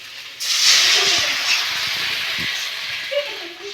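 A sudden loud sizzle as spices hit hot oil for tempering horse gram rasam, a sustained bright hiss with faint crackles and pops underneath, close by.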